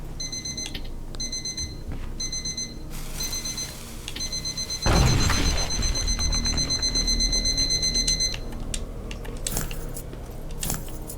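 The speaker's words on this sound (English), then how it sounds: "Sounds like an alarm clock" Alarm clock ringing inside the video game Terminator: Resistance, repeated bright electronic beeps in bursts, then a clatter and a long sustained ring mid-clip, set against ambient game noise.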